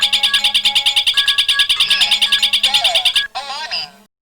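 An alarm system's phone call rings with a fast, repeating electronic trill in loud pulses, then cuts to a brief warbling tone before going silent.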